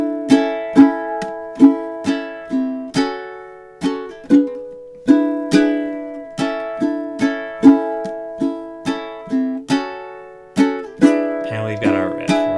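Ukulele picking the riff of a song in a steady, repeating arpeggiated pattern, close and clear with no voices.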